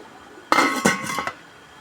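A lid is set onto a metal pot of fish soup, giving a sharp clank followed by a couple of quick rattling clinks as it settles, loud and close.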